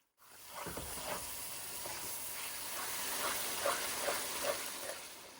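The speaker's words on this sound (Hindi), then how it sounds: "तेज आंच पे कीमे को इतनी देर पकाना है इनका रंग बदल जाए" Minced mutton keema sizzles steadily on a high flame, a constant frying hiss with a few soft scrapes and stirring clinks near the end, close and moderately loud with no talking.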